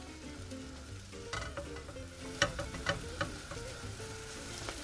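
An eggplant and tomato mixture for Persian mirza ghasemi sizzles and fries in a pan while being pushed around, with soft scraping stirs and a few light clicks of the utensil over a steady quiet crackle.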